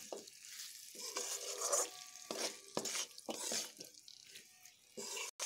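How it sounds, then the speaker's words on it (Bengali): Jackfruit seeds frying with spices in a pan, a steady close sizzle broken by repeated scrapes and clatters of stirring, with short splashes of water near the end. "এবার কাঁঠালের বীজের সঙ্গে মশলাগুলোকে আরও একটু ভালোভাবে এইভাবে ভেজে নেব।"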